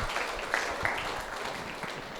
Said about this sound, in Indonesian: Kita berikan tepuk tangan untuk Bapak Sobri Asage